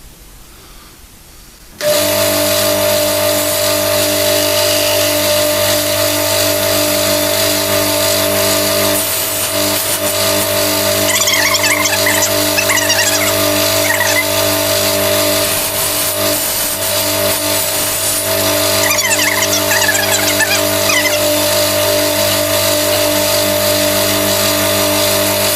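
A table saw starts up and runs loud and close, its motor hum steady as the blade cuts a wooden chess knight piece, with rougher bursts of sawing and rubbing through the wood midway and toward the end.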